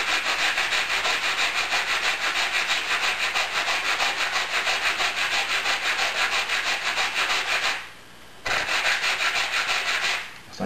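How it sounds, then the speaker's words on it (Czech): Long sanding block rubbed steadily back and forth across the wing of an EPA-class aircombat model aircraft, bevelling a joint; a close, continuous rhythmic abrasive rasp that pauses briefly twice near the end. "Takže vemu dlouhý brusný špalík a normálně to mírně zbrousím do úkosu."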